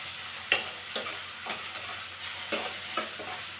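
Vermicelli for shavige upittu is stirred and fried in a pan, giving a steady soft sizzle broken by regular scraping stirs about every half second, close and without talk.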